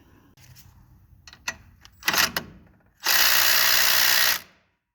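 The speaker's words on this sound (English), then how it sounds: "need to do is tighten down the motor mount bolt back in there" A motor mount bolt on a 2003 Chevy S10 gets tightened, with a few scattered clicks and clanks followed by a loud, sustained buzzing whir of a power tool for about a second and a half before it stops.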